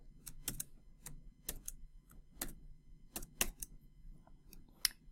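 Typing on a computer keyboard: sparse, quiet key clicks at an irregular pace with short pauses between them, close by in a quiet room.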